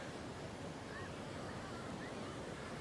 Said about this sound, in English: Wow, these waves coming in.